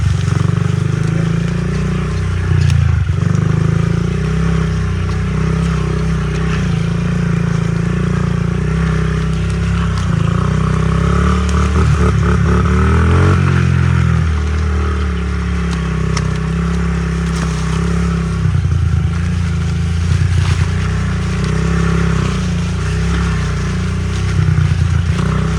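A dirt bike engine drones steadily and loudly throughout a ride, its pitch wavering as the rider throttles on and off, with rattling and wind buffeting layered over it.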